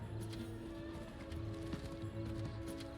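Horse hooves clip-clop steadily in a Diablo IV town, a continuous mid-level trot under dense game ambience and music-like hum.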